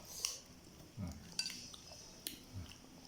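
A knife slices bilimbi fruit to be eaten with fermented fish sauce and chili, giving a few faint, sparse clicks and taps against a quiet background.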